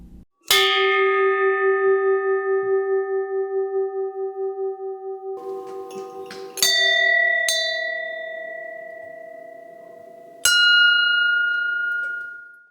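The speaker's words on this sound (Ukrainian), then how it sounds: "Іван Мазурик каже, вдарити у дзвони перемоги зможе кожен охочий та зачитати молитву" Victory bells cast from shell casings are struck one at a time, each ring a loud, clear metallic tone that hangs and slowly fades before the next strike.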